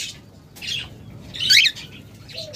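A cockatiel pair kept for sale calls in short, sharp, high squawks and chirps, three or four separate bursts close by with quiet gaps between.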